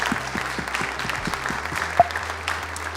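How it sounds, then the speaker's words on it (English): Audience at a sustainable tourism award ceremony in Cascais claps in a continuous, moderately quiet round of applause, with a low steady hum underneath and one brief louder knock partway through. "maybe give them a big applause from everyone"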